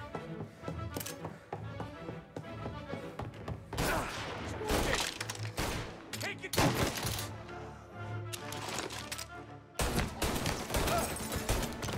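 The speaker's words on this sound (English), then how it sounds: "Bro, that guy's got a Tommy gun." Tommy gun fire in Mafia Definitive Edition, with sharp bursts and volleys of shots repeating across the whole stretch amid dense game music and ambience, loud and close throughout.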